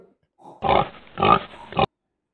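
A person imitates a pig, giving a few short nasal grunts and snorts up close before falling silent.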